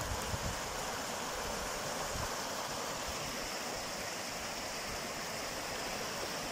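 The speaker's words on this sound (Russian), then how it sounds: "тут сумасшедший перекат с заломами, он какая вода там кипит прям" Rushing water roars continuously and evenly, a broad churning wash from nearby river rapids with logjams, with no voices.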